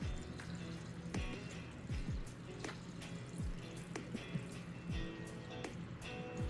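Water fills a pot holding an orchid so the plant can soak, a close, continuous liquid gurgle with repeated bubbly drips and plops throughout.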